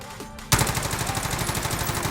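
Rapid automatic gunfire from the Grav rifle in the Warzone video game starts abruptly after a brief quiet lead-in, then continues as a steady, close, loud stream of shots with an even rhythm and no talking.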